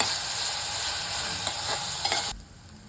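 Onion and tomato sauté in a pan for a masala Maggi, a close steady sizzle with stirring scrapes that cuts off abruptly near the end, with no voices.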